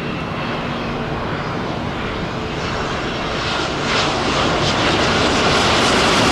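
A passenger airplane comes in to land on runway 07L at Tan Son Nhat airport, its engine roar steady and broadband, swelling slightly louder as it draws nearer, with no talk over it.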